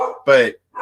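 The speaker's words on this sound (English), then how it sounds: "sorry about the dog." A dog gives a single loud bark in the middle of the clip, between bits of a man's speech right beside it.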